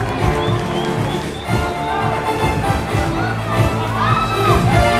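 A crowd at a sports team presentation cheers and applauds, with dense clapping, shouts and children's voices filling a large hall continuously.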